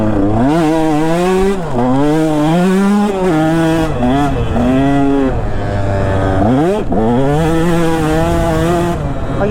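A KTM 125 SX two-stroke dirt bike rides a sand track, its engine loud and close, with continuous revving that rises and falls as the throttle opens and backs off, dipping briefly around a few shifts and corners.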